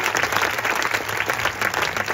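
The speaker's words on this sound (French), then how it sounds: "Applaudissements pour David." Street show audience at a festival of street artists in Vevey, Switzerland, applauding a volunteer during a diabolo act, with dense, lively open-air clapping from a crowd, steady and fairly loud throughout.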